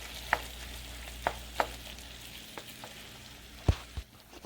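Cooked rice stuffing mix for stuffed bell peppers stirred in a pan, with a few sharp spoon scrapes and clacks spaced across a quiet, low background hum, the last knocks a little louder.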